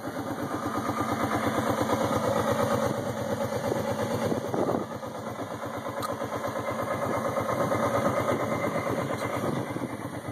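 A small pickup-style utility vehicle, a Terxy 750, with its engine running nearby, a loud steady throbbing chug with a brief dip partway through.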